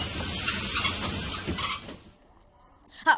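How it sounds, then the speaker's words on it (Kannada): A train arrives with loud squealing wheels and rumbling carriages close by, the noise easing off and fading to near quiet toward the end. "ಟ್ರೈನ್ ಬಂತು"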